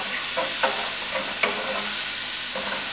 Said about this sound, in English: I've got the mushrooms cooking up with the garlic and the olive oil